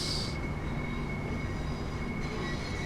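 A train in a simulator game pulls out of Lewes station with a steady, loud low rumble and faint humming tones. A brief high squeal of wheels comes at the start and returns faintly later.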